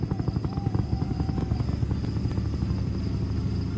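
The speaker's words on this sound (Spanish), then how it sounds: "Un helicóptero, eh." A helicopter in the video game Dude Theft Wars gives a steady rotor chop: fast, even pulses over a droning engine hum, fairly loud and close, throughout.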